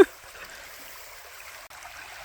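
A shallow stream, the kind crossed barefoot outdoors, flows with a faint, steady trickling hiss throughout, with no talking.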